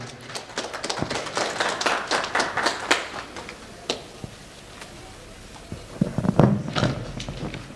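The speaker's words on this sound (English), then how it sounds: "Can we applaud him again?" Audience applause at an international technology and innovation conference, a wash of many hands clapping that swells loudly at first, thins out in the middle, then rises again briefly near the end.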